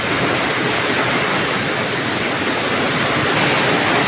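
Strong wind and rain of Typhoon Rolly in Libmanan, Camarines Sur, make a steady, dense roar that holds loud and unbroken throughout, with no voices over it.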